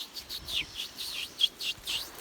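A voice imitates a lyrebird call in an Australian rainforest, a quick series of about eight high, whistled chirps in steady rhythm, fairly faint and with no other sounds.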